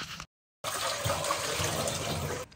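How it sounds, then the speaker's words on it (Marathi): Tap water runs steadily into a pot being washed in a kitchen sink, a close, even splashing hiss after a brief silent gap. "आपण याला रनिंग वॉटर नळाखाली कसंही धुवू शकतो."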